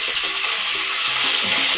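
Finely chopped potato frying with cumin seeds and a bay leaf in a pan, a loud dense sizzle that holds evenly throughout, with a few faint scraping touches and no speech.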